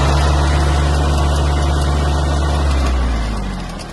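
A Kubota A-195 Japanese mini tractor drones loudly and steadily at close range with its PTO-driven blades spinning, a dense mechanical roar that begins to ease off and drop in pitch near the end.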